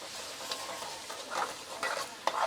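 Ingredients being stirred in hot oil for a fasting-day sabudana dish give a steady low sizzle, with soft scraping strokes and a few brief louder clinks near the end, heard up close with no talk.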